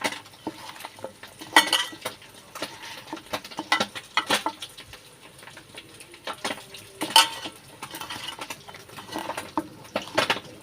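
Vegetable curry with bele fish being mashed and mixed by hand, giving soft wet squelches and pats, with a few sharper clinks of a utensil or plate, close by and without talking.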